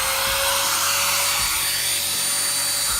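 Router with a trimming bit cutting formica laminate, a loud, steady high-pitched whine with a constant tonal edge that runs throughout, close and unbroken.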